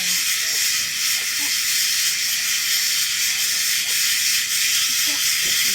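Cicadas frying in hot oil give a steady, loud broadband sizzle and hiss that runs unbroken throughout, with faint pops and clatter beneath and a voice speaking low in the background.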